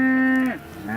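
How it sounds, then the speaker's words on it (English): A cow in a mixed grazing herd of cows, bull calves, yearling bulls and a mature stock bull gives one close, loud, drawn-out moo that falls away at the end. "cows with bull calves, some have been castrated, yearling bulls and the mature stock bull"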